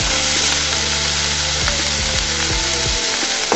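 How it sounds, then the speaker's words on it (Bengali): Food sizzles loudly and steadily in a frying pan while onion stalks fry with a little salt and turmeric for a Bengali eggplant and egg dish. Faint stirring taps sound close by, with no talking. "এটাকেও আমি সুন্দর করে ভেজে নেব"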